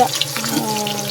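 A battered blooming onion drops into hot oil and fries with a steady, bright sizzling hiss, close and fairly loud, while a voice talks over it briefly.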